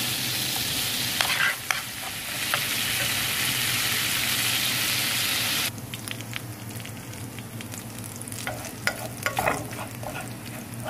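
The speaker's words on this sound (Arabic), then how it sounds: "حطينا حتة زبدة ومعلقة ثوم بالجنزبيل، هنشوحهم برضو أو هنحمرها" Garlic and ginger sizzle in melted butter in a pan for shrimp, a steady close frying hiss that drops in intensity midway, with scattered crackles and utensil stirring taps throughout.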